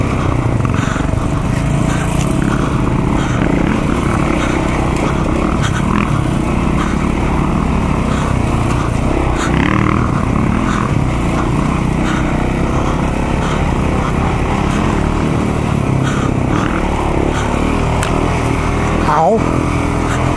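A KTM 690 and a KTM EXC 525 ride together through woods, with a steady loud motorcycle engine drone that rises and falls as the riders work the throttle along a trail, and wind and rustle mixed in.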